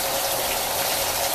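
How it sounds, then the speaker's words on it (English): Hot water gushes from a tap into a filling bathtub, a steady, loud, close rushing hiss that runs unbroken throughout. "So here I am, bathtub's filling up"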